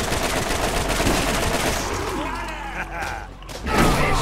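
Gunfire in the Borderlands video game, dense bursts of shots throughout with a brief lull before a final burst, mixed with game sounds and chatter from players.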